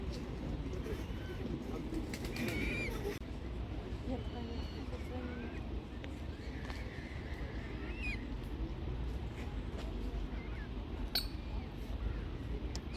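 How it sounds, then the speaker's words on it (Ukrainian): Faint, thin peeping from small coot chicks swimming after their mother comes and goes over a steady outdoor background, while a person talks nearby. "плавають за мамою і пищать."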